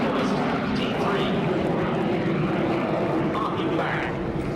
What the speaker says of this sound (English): the hunting Jet Provost D3